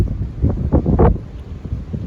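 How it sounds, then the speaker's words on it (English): Strong outdoor wind gusting around 30 miles an hour, roaring in loud buffeting surges that rise and fall over a couple of seconds, with heavy rumbling wind noise on the microphone. "Now, as you can hear, got some big winds today."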